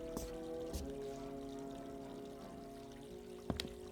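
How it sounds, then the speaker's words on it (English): A radio drama sound effect of water running from a tap in a diner kitchen, a soft continuous pour and trickle with a few sharp clinks and knocks at the start and near the end. "Meanwhile, don't waste so much water."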